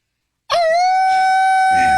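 A man imitates a wolf howl with his voice: one loud, steady, drawn-out tone that starts abruptly and holds for about a second and a half.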